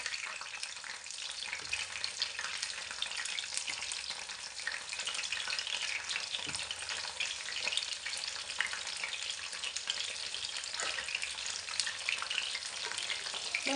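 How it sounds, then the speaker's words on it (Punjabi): Baby corn fries in ghee in a pan with a continuous even sizzle and crackle, faint and steady, with an occasional scrape of stirring and no voices. "ਇਹਨਾਂ ਨੂੰ ਆਪਾਂ ਚੰਗੀ ਤਰ੍ਹਾਂ ਪਲਟ ਪਲਟ ਕੇ ਪਕਾਉਂਦੇ ਰਹਾਂਗੇ"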